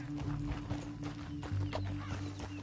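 Horse hooves clip-clopping at a brisk pace on a trail in the western game Red Dead Redemption 2, close and steady over a low hum of ambient noise.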